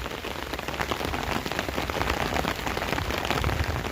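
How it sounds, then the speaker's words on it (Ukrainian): Steady autumn rain in a village patters on a surface and drips from an umbrella, a dense continuous wash of drops close by, with no voices. "О, подивіться, який дощ."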